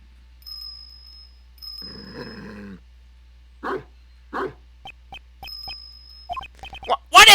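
A dog barks several times in short bursts, with yips and a whimper, over quiet game music and tones in Ace Attorney Investigations 2; a louder bark closes it.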